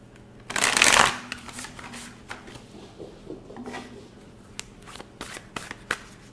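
Tarot cards are riffled in a quick, loud burst, followed by softer sliding and tapping as they're handled, with faint speech in the background.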